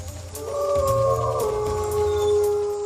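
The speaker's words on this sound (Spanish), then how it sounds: "el oso perro." A long, wavering howl, given as the call of a prehistoric bear-dog, a lion-sized Miocene predator. It rises and holds over a low rumbling background, with no talking.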